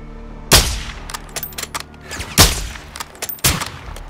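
Gunfire in Call of Duty: Modern Warfare II, three loud, sharp rifle blasts at roughly one-second spacing, each followed by quicker, lighter shots and rattling echoes, with no talking.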